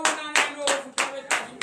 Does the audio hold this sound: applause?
yes